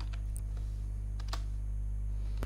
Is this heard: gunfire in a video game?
no